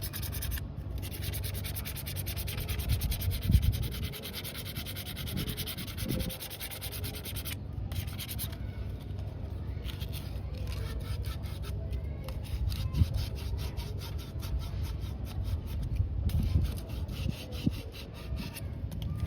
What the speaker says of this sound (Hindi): ये हमने अपने कॉपर के पाइप को साफ़ कर लिया।